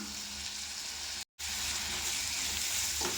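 Loud, steady sizzling of an onion and tomato masala frying in a pan with rock salt, with a brief cutout and a soft scrape of stirring near the end.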